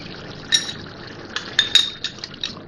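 Ghee going into a pot of mutton karahi for bhuna: soft scattered clinks of a metal spoon against the pot with light liquid pouring, fairly quiet.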